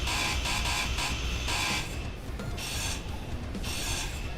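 Harsh, rasping hiss of a welder tool building blocks in the game Space Engineers, coming in loud pulsing bursts with short pauses between them.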